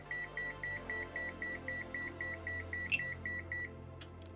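An ANENG AN870 multimeter sounds its overcurrent alarm at 10 amps, a steady run of short, evenly spaced electronic beeps, close and moderately loud, before a brief click and the beeping stops.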